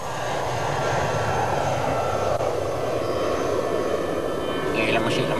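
Airplane engines drone steadily in flight, a broad low rumble filling the whole stretch at even loudness, heard from inside the cabin with a faint voice underneath.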